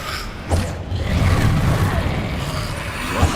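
Incendio fire spell cast in Hogwarts Legacy, a loud whooshing burst of flame with a booming rumble that sustains for a few seconds, the crackling roar filling the mix at close range.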